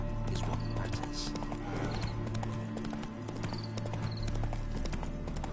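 Horse hooves clip-clop steadily in The Witcher 3 video game, a close, rhythmic trot heard under game music and ambient sound, with a brief whinny-like call.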